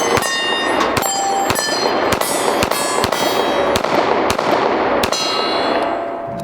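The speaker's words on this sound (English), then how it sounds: "This is the Hellcat. Let's take a couple shots with it and see what we think." A Springfield Hellcat pistol fired at a range, about a dozen sharp, loud shots at a steady one-per-half-second-or-so pace, each with a bright ringing tail.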